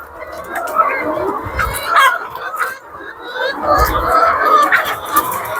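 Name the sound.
chickens squabbling over papaya leaves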